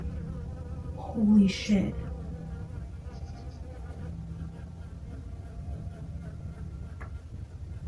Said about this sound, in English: There's bees right now coming through my window.